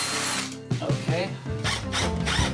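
A power drill drives screws into metal during a stone ruin renovation in Portugal, giving a close, loud whirring motor with brief pulses and bursts of tool noise.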